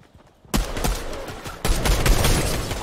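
Rapid bursts of gunfire in Fortnite Battle Royale erupt after a near-silent start, a dense, loud fusillade of overlapping shots that surges again midway and keeps going to the end, with no talking.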